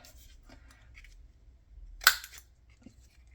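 Scissors snipping paper, a single crisp cut standing out near the middle against quiet background rustling.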